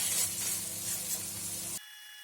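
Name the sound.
pork shoulder steak sizzling in a pan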